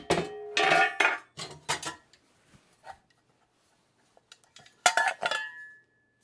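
Kitchen pans being handled and set down, a loud burst of metallic clanks and rattles at first, then scattered small clinks, and another clattering cluster near the end.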